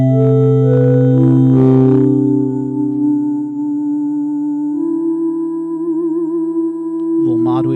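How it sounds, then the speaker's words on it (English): A sustained synthesizer tone from a morphing wavetable oscillator whose timbre slowly morphs and shifts, with a brief wobble in pitch near the end. "that is waves, which is a morphing wavetable oscillator"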